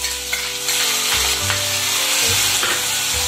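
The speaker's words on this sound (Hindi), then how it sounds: "अभी हम ग्रीन चिली ऑयल में डाल देंगे, साथ में डालेंगे टोमेटो" Green chilies and tomato dropped into hot oil for egg pasta Maggi, a loud, dense sizzle with stirring scrapes close by, while a steady low hum runs underneath; no one speaks.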